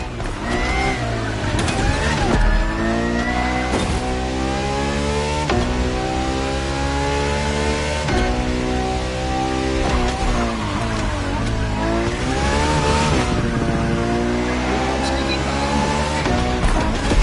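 Loud, continuous engine roar from a Ferrari R&D test car, a track-only racing machine, in The Crew Motorfest, rising and falling through repeated revs and gear shifts with no pause across the stretch.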